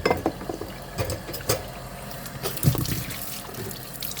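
Bananas rinsed under running tap water at a sink, a steady low splashing flow with a few louder splashes and handling knocks, close and alone without talk.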